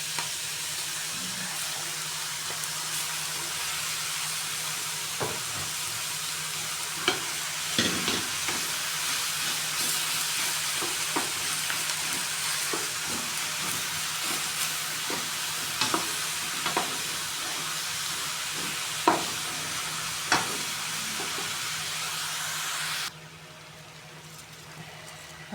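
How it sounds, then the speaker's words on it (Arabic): Meat and onions fry together in a pan with a constant, fairly close sizzle, punctuated by scattered knocks and scrapes from stirring, before the sound drops away near the end. "اشوح بقى اللحمه مع البصل."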